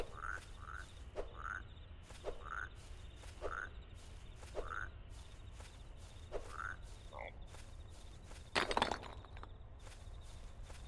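A frog croaks in a video game decontamination level in the wilds, repeated short faint croaks in a steady rhythm over soft ambient background, with clicky footstep-like ticks and a brief crunch near the end.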